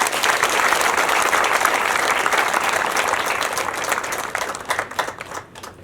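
Sustained applause from a crowd of residents at a community gathering in Kigali's Muhima sector, dense clapping that continues strongly before thinning out and fading near the end.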